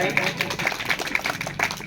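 A child clapping hands, a quick run of about six or seven evenly spaced claps, fairly close, with people talking over them.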